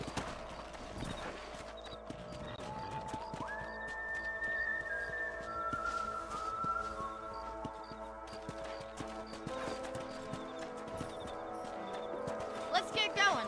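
Horses gallop in the Red Dead Redemption video game, their hooves clip-clopping in a steady rhythm under game music and background effects, with a brief whinny.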